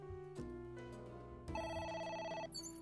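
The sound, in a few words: phone ringing in video game AI: The Somnium Files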